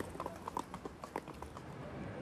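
Police horses' hooves clip-clop in a quick, uneven rhythm on pavement at an evening demonstration, several faint strikes close together before fading into a low background murmur.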